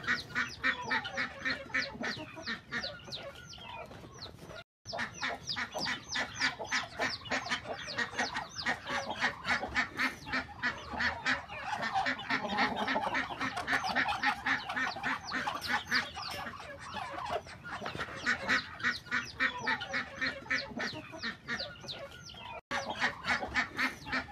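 A dense, continuous chorus of quacking ducks mixed with clucking fowl on a farm, many birds calling over each other without pause, close and loud.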